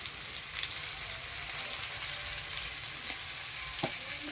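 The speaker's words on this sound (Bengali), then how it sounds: "বিট নুন দিয়ে আবার তো ভালো করে আবার নেড়ে নেব" Amla pickle being stirred with turmeric and salt, a steady soft sizzling, scraping texture that runs throughout at close range, with one sharper clink near the end.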